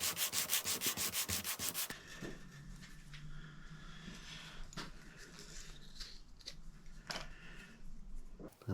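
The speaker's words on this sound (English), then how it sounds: "thin this down a little bit with a little bit of sanding" A piece of wood is sanded by hand on a 180 grit disc laid on flat MDF, starting with quick rhythmic rubbing strokes, then settling into slower, quieter scraping with occasional small knocks.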